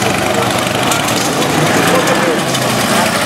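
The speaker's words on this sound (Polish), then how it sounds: "Słuchajcie, 2 cylindry, silnik dolnozaworowy." Vintage two-cylinder side-valve motorcycle engine running steadily at a historic motorcycle rally, a continuous buzzing drone at close range mixed with crowd chatter and an announcer's voice over the top.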